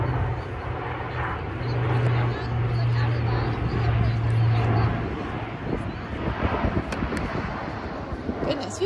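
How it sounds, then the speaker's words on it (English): A large airplane, likely from Moffett Field, drones overhead during a San Francisco Fog vs Los Angeles Aftershock quidditch game, a low rumbling swell that rises and fades under people talking outdoors. "we got a big old plane flying over, I'm guessing the Moffett Field"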